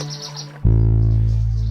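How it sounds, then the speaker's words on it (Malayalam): A bird chirps in a few quick, high, bright tweets, then a loud, steady, droning tone takes over and fills the rest of the moment. "ആ പക്ഷി നോക്കി എന്ത് രസാ"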